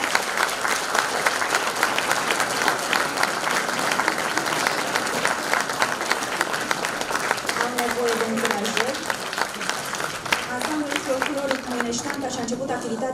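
Audience at a Christmas carol concert in Moinești applauding the vocal ensemble, sustained dense clapping with some crowd murmur and faint tonal sounds emerging toward the end.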